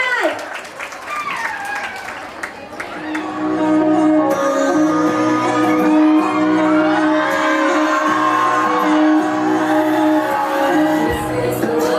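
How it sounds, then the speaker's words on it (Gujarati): A school annual function audience claps and cheers loudly for a tenth-grade student's dance performance, a dense burst of applause for about three seconds before a song begins playing over the fading crowd. "તેના માટે જોરદાર તાળીઓ થઈ જાય"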